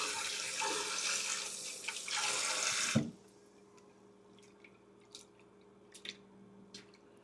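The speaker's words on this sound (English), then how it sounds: "Let me add more water." Tap water gushes loudly into a container for about three seconds, then stops, leaving a few faint drips and small clinks.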